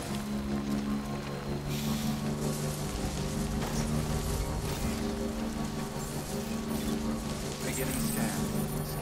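Steady rain hisses across the whole stretch in the video game Death Stranding, a dense, even patter layered over sustained tonal game music and ambience.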